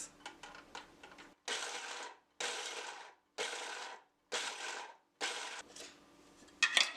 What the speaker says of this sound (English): I'm going to pulse it just because I want some texture